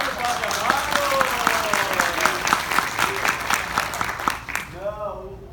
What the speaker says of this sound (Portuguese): palmas para o padre Amaro